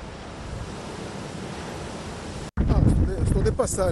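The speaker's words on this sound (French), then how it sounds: "je suis venu voir s'il y avait de grosses vagues" Big ocean waves crash and roar during storm Kirk on the coast, a steady loud wash of surf with wind noise, then cut to someone speaking over rougher wind and sea.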